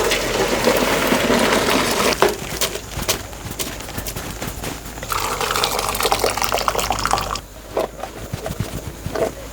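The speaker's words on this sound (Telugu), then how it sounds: "ఇప్పుడు తీసి జల్లెడలో పోసేసుకుందాం" Boiled broad beans and their cooking water pour into a strainer, a sustained close splashing gush that shifts in texture and eases off near the end.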